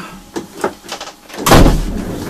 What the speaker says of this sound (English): let's shut the door because I can hear the steak frying